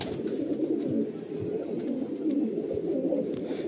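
A Fulshira pigeon coos in a Madrasi pigeon loft, a dense, throaty, continuous burbling that stays close and steady for the whole stretch.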